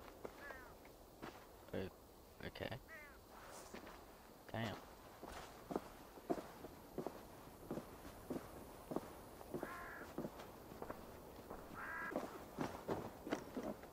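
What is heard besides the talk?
crow cawing in a video game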